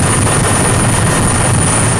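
A CH-146 Griffin military helicopter flies close by, its rotor and engine roaring as a loud, continuous, dense wash of broadband noise with a high whine on top and no voices.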